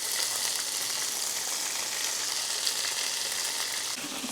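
Beef for a stir fry fries in a hot pan, a constant loud, dense hissing sizzle that holds steady throughout with no voices.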